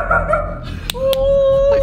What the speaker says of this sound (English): So we've got the voice recording of Rocco barking